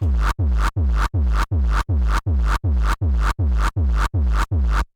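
Twelve evenly spaced, heavily distorted kick drum hits, each with a crunchy, gritty tail that cuts off sharply before the next, loud and alone.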